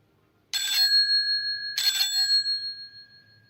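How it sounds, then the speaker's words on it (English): A doorbell rings twice in quick succession, two bright metallic dings about a second apart with a ringing tail that fades slowly in a quiet room, heard alone with no voices. "suddenly she ran across the road and rang Holmes's doorbell"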